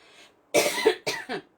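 Three harsh, close coughs from one person, a short throaty lead-in followed by a long burst and two quicker ones in succession.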